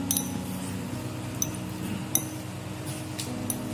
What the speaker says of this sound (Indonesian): Kita aduk terus.